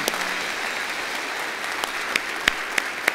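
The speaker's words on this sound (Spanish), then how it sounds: "Dale un aplauso al Señor." A church congregation applauds the Lord at the close of a Spanish-language sermon, a steady wash of many hands clapping with a few sharper claps standing out near the end.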